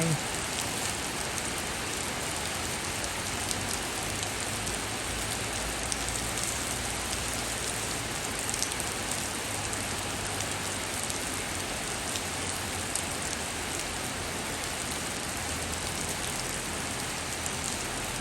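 Heavy storm rain pours down in a dense, steady roar, loud and unbroken from start to finish with no pause or letup.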